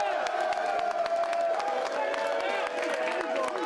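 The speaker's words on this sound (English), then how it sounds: "Stand up and cheer." Large stadium crowd cheering and whooping for the seniors at a college football game, a dense, steady roar of voices with scattered clapping that holds without a break.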